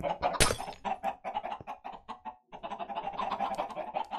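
Minecraft chickens cluck in a quick, busy run of short bursts, fairly close and steady, with a brief pause in the middle before the clucking picks up again.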